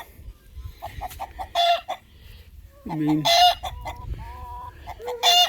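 Chickens cluck in repeated bursts, with a rooster-like call near the middle, while a person speaks briefly over the birds.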